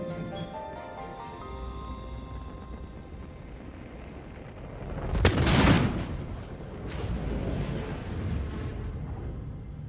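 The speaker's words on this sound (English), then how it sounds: "And here we go, 1 size 9 torpedo." Size 9 torpedo striking a Carrack ship in the space game, a sharp blast in the middle breaking into a crackling burst, then fainter secondary rumbles after a fading tonal hum.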